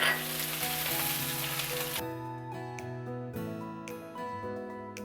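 Sliced onion fries in coconut oil with a dense, loud sizzle for about two seconds, then cuts away to steady musical tones.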